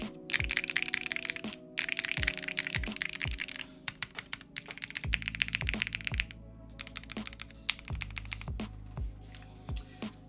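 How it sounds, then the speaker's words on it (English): Rapid clacky typing on a mechanical keyboard, bursts of crisp key presses with heavier thocks from a larger key, close and continuous. "Those are keyboard sounds."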